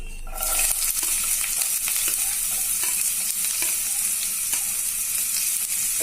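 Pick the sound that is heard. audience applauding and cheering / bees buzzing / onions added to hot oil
onions added to hot oil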